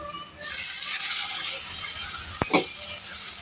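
Washed flattened rice (poha) with fried cashews stirred in a pan, a soft sizzling scrape with a sharp spoon clank against the pan, under light talk and background voices.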